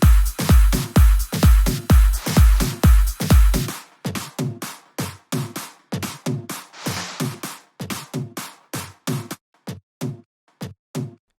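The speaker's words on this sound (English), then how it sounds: "And more percussion to fill the gaps." Percussion layer for a vocal progressive house track built in FL Studio: loud, punchy, evenly spaced hits in a quick rhythm, dense at first and then thinning into sparser, crisper strikes with short tails, with no voices.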